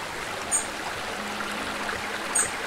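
A river stream flowing in the Eastshade video game, a steady, even wash of water noise with a faint birdlike chirp at moments, continuous and moderately loud.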